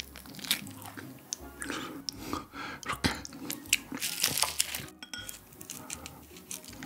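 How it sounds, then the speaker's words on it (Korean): Tuna wrapped in freshly roasted seaweed is bitten and chewed up close, giving loud, repeated crunchy bites with occasional clinks of dishes. "바로 구운 김에다가 참치 먹으니까 진짜 맛있네요."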